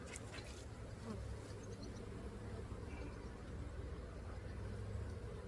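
Honey bees buzz in a soft, continuous drone, many insects humming together at a low, even level throughout, while being cleared from hive frames infested with small hive beetles.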